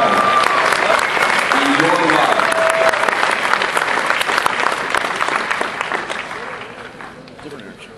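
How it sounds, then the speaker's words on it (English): A convention crowd at a comic con costume contest gives a loud, sustained round of applause for volunteers, dense clapping with cheers and voices that gradually fades. "give them a round of applause real quick."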